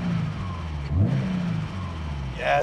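A 600 hp Subaru WRX STI on a base map runs with a loud, rough low drone and a brief surge in revs, while someone speaks briefly over it.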